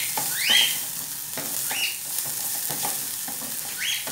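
Large pieces of garlic frying in oil in a pan, a loud steady sizzle with occasional stirring scrapes and spatters, close up with no voices.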